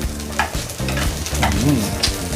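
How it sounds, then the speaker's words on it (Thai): Crispy gourami fish frying and being stirred in hot oil for a Thai spicy herbal soup, a steady loud sizzle with scraping stir movements, close up and without talk. "ลงน้ำมันไปหอมมากเลยนะครับ"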